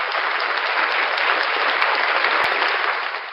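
Loud, steady applause fills a short stretch with dense clapping from a crowd, holding even and close throughout before easing slightly at the end.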